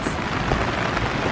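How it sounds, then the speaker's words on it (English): Steady, dense rain falls continuously outdoors at a surf spot in La Union, a close, loud, even patter with no talking. "It's raining right now, so we have to wait for the rain to pass."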